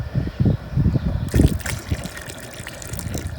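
Water poured into a pot for boiling a javelina skull, a steady gushing splash that starts with a few low knocks and continues alone for a few seconds.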